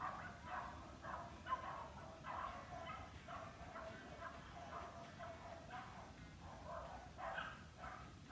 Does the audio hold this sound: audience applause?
no